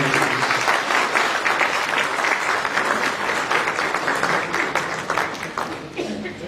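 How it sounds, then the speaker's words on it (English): Loud, sustained audience applause at a spiritual values gathering, broad and even with many hands clapping, tapering slightly near the end. "Let us give a round of applause again for all these qualities."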